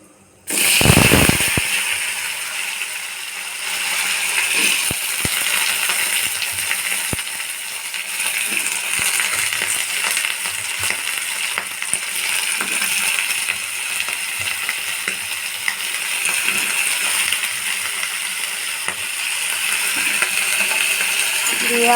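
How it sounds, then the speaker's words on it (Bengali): Potatoes drop into hot oil with dried chillies and panch phoron, setting off a sudden loud burst of sizzling that settles into a steady, crackling fry with occasional spatula taps. "এবার আলুগুলো দিয়ে দেবো।"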